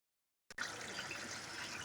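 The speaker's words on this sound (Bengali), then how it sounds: "তো তার জন্য একটুখানি গ্রেভিটা বাড়ানোর জন্য জল দিয়ে দিচ্ছি পরিমাণ মতো" Water is poured into a pot of mutton curry to thin the gravy, a soft, steady, close splashing pour that starts after a brief silence and runs without speech.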